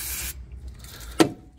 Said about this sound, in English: So, brake cleaner